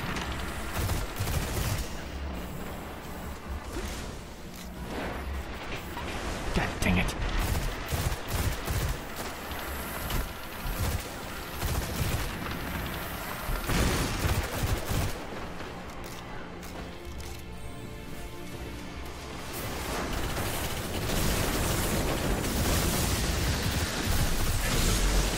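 Dense, continuous video game gunfire in Destiny: Rise of Iron, burst-fire and full-auto weapons rattling through rapid shots, mixed with impacts and explosions over a busy soundtrack.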